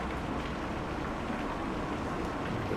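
Dense, steady rain hiss from the video game Kentucky Route Zero fills the whole stretch, an even wash of noise without breaks or distinct drops.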